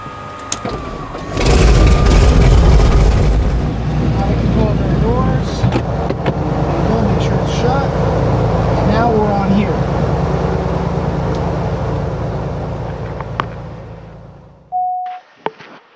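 Cirrus SR22T-G6 piston aircraft engine cranking and catching, then settling into a loud, steady idle rumble close by, with talk heard over the engine noise before it cuts off near the end.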